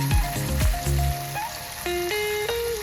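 Bombil fish fries in a pan with a bright, crackling sizzle that carries on steadily, with a few scraping or stirring touches early on and a faint tonal hum in the background.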